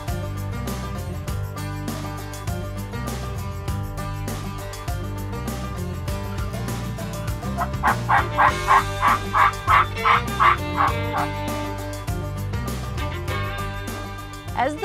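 Wild turkeys calling in spring give a short run of about eight quick, rhythmic gobble-like pulses midway, heard over a steady, louder musical backdrop.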